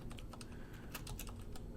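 Quiet, quick tapping of keys on a computer keyboard, an irregular run of soft clicks close by with no talking.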